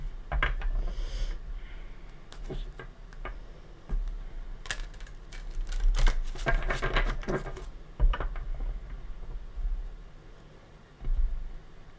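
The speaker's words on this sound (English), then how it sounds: "Give it a couple shuffles." An oracle card deck is shuffled up close in a psychic reading, producing clustered bursts of light tapping, riffling and card snaps with short gaps between, over a low background rumble.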